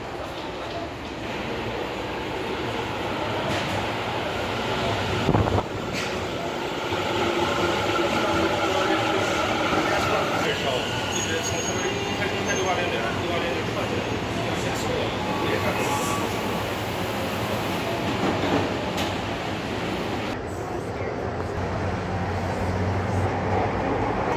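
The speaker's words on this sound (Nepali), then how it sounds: "अब मेरो 2 नम्बर ट्र्याकको ट्रेन आउँदैछ" A metro train arrives at a busy Tokyo platform one station from Shibuya, its steady rumble and wheel noise swelling and easing over about twenty-four seconds while people talk over it.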